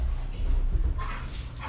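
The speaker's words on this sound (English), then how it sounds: "we adopted a new dog from the shelter last weekend, so he's going crazy" A newly adopted shelter dog lets out soft whimpers and a muffled bark or two, faint and somewhat distant over a low rumbling background hum.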